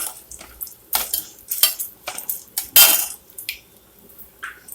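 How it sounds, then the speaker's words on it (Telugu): Cashews added to a pan with frying urad dal for rava upma bring a run of close, sharp clinks and scrapes as a metal spoon stirs against the pan, coming in quick irregular bursts with quiet gaps between them and no talk. "అందులోనే మనం కాజుని యాడ్ చేసేసుకుందాం"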